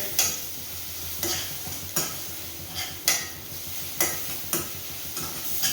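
Ginger garlic paste frying in a pan, a steady sizzle broken by regular spoon scrapes and taps against the pan about once a second, close and moderately loud, with no one talking.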